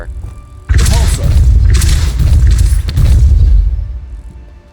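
A Repulsor spell in a video game releases loud, heavy booming blasts with deep thuds and crashing bursts that swell and roll for several seconds before fading.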